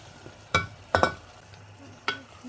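Spoon stirring kimchi jjigae in a cooking pot, a few separate clinks and scrapes against the pot over a faint simmering background.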